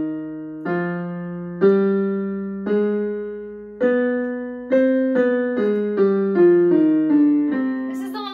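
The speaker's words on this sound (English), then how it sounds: "The harmonic minor scale is personally my favorite." A plucked string instrument plays a rising harmonic minor scale of single notes, each ringing out and decaying, slow at first then quickening toward the top.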